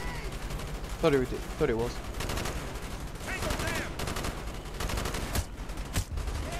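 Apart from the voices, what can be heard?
gunfire in video game Call of Duty Black Ops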